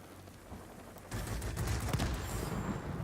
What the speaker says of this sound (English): I want to get in with that P-40 and see if I can actually shoot this time.